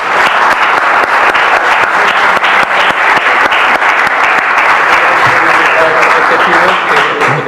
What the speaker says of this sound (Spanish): Bueno, pues damos un aplauso de despedida a David.